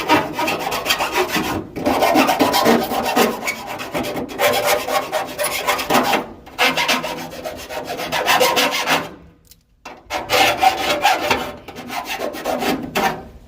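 Loud, close rasping of a hand file taking sharp edges off a metal panel on a 1966 Corvair Corsa, stroke after stroke in a steady rhythm with a couple of brief pauses; no talking.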